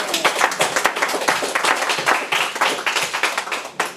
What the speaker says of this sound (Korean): 우리 하나님께 영광의 박수 한번 올립시다.